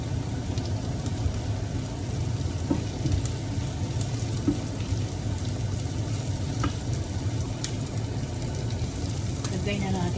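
Onion and mushroom frying in a pan, giving a steady, continuous sizzle at moderate level with occasional clinks and stirring scrapes throughout.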